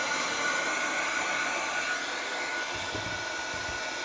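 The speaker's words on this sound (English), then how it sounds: "That dryer must be going out. It's getting louder." A hair dryer that seems to be failing runs with a loud, steady, close whooshing roar for the whole stretch, alone with no speech.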